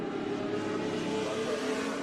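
Vintage Eagle race cars with Ford engines racing at the Velocity Invitational, a brief steady engine roar heard at moderate distance, continuous and unbroken.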